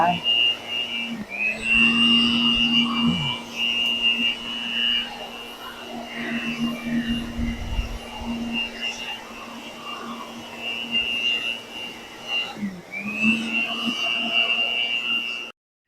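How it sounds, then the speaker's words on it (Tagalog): A portable vacuum cleaner running steadily while cleaning a biofloc tilapia tank, a continuous motor whine and whoosh that briefly dips and restarts, with someone talking over it. "mayroon naman akong portable na vacuum"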